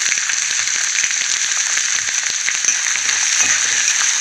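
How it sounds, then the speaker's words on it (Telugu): Urad dal and ginger pieces frying in hot oil give off a steady, loud, close sizzle with faint crackles throughout, and no voices are heard. "ఇది ఫ్రై అవ్వాలి ఇప్పుడు అల్లం ముక్కలు వేసుకున్నామండి"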